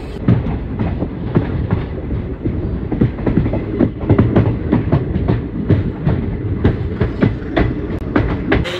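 A train rolls through a railway station in the Konkan region, loud and close, with steady rumbling and rhythmic clickety-clack of wheels over rail joints, no talking.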